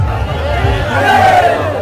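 A dense, roaring crowd cheers and shouts together at a Bharat Jodo Yatra rally march in Maharashtra. The sound is loud and sustained with a strong low rumble, and the massed voices blur into one mass.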